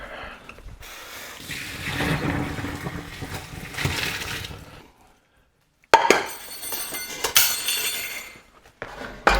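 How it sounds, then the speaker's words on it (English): Pasta water pours out of a pot into a sink drain in a home kitchen, a rushing splash that runs several seconds, stops briefly, then resumes with clinks of cookware. "Just drain this pasta water."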